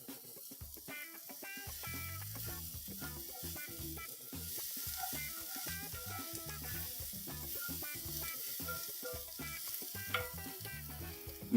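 Onions and celery fry in a pot for a beef, winter squash and pepper stew, giving a steady close sizzle with frequent clicks and scrapes of stirring throughout, with no voices.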